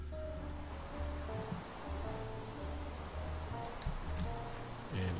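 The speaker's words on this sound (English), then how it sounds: "And it's pouring down rain." Rain pours down in a video game as a steady, soft wash of hissing noise beneath quiet background music, with no talking.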